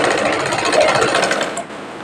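A sewing machine stitches around a rectangle, producing a loud, fast, continuous mechanical chatter that drops away suddenly near the end.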